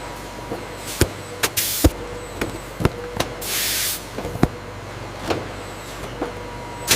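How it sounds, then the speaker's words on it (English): Short hissing bursts of hot melt glue spray from nozzles onto inner cardboard box flaps twice amid a series of sharp mechanical clicks and clacks from nearby ice cream factory machinery. "Nozzles spray lines of hot melt glue onto the inner cardboard flaps."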